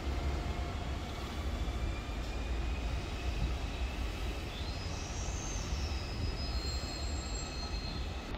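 A Metronom RE 5 regional train rumbles steadily into Hamburg Hauptbahnhof, wheels squealing in rising and falling high whines over a constant low roar, loud and close throughout.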